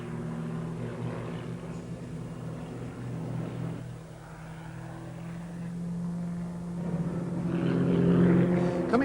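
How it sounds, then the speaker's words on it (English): An Extra 300 aerobatic propeller plane flies over an air tattoo at Fairford, a steady droning engine with shifting pitch, distant then building louder toward the end. "What they do fly, though, the Extra 300, is one of the best aerobatic aircraft in the world"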